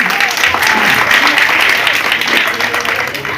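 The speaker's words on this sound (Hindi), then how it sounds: "एक बार आप अपने लिए भी जोरदार तालियां बजा लीजिए" Loud, dense applause from a seated crowd at an outdoor BJP street-corner election rally in Firozabad, steady clapping sustained throughout with faint voices mixed in.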